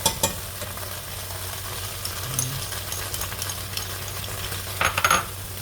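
Anchovies and tomato paste fry in olive oil in a pan, a soft, steady sizzle with occasional light clinks and stirring scrapes, close and moderately quiet.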